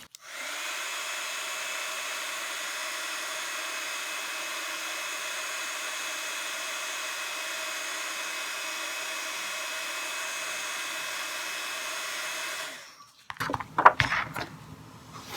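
A heat tool melting embossing powder for craft stamping blows a steady, moderately quiet airy whoosh for about twelve seconds, then cuts off, followed by a few small clattering handling knocks.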